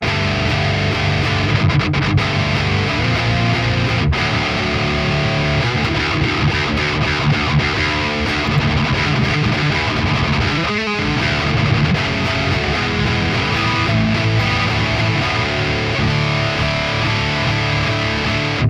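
A heavily distorted electric guitar plays loud, sustained riffs through a PV Invective amp with a thick, saturated tone, alone and without any talking.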